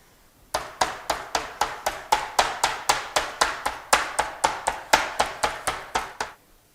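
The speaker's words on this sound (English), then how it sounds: "we're going to use the hammer today because we don't need to keep the shape of it because it's already flat" A meat tenderizer hammer pounds already flat raw meat in a steady run of about twenty sharp, evenly spaced whacks, close and loud, with no talking.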